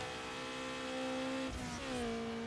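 A car engine from the racing game Need For Speed Underground drones steadily at a sustained pitch, then dips and shifts briefly as if changing gear before settling into an even, slightly lower tone, all fairly quiet and continuous.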